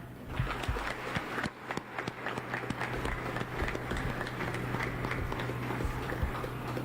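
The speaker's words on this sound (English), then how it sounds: "please welcome with a round of applause the President of the Republic of the Philippines" Audience at an Armed Forces of the Philippines Eastern Mindanao Command headquarters event applauds in welcome of the Philippine president, a steady mid-distance wash of clapping with scattered sharper claps throughout.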